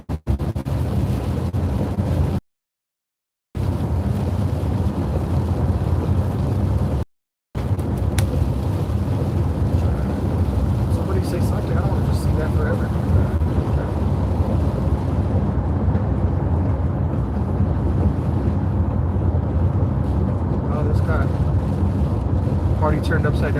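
Heavy, steady wind roars and buffets around a cargo van caught in a severe dust storm near Lordsburg, New Mexico. The rumble is loud and continuous with brief dropouts, and a voice talks over it at times.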